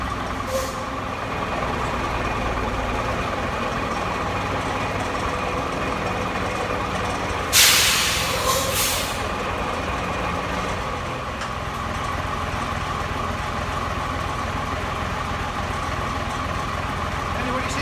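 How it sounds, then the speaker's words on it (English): A Foden Fleetmaster lorry backing out in a steady diesel idle and rumble, close by, with a sharp hiss of air brakes midway and people talking over it. "we'll back the lorry out and we'll measure that front now"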